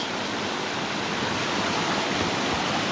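Steady rushing water pours through a gold sluice box on a gravel bar, a constant broadband wash with no pauses and no voices.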